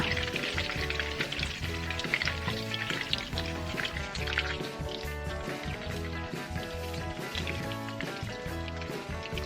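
A mushroom omelette fries in oil in a pan over medium heat, giving a steady, fairly quiet crackling sizzle with faint clinks and stirring noises throughout.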